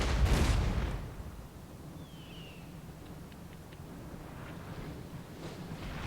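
Volley of 12-pounder cannons in the Napoleonic battle game Napoleon: Total War, a deep boom up front that fades into a rumbling battlefield ambience with faint distant reports.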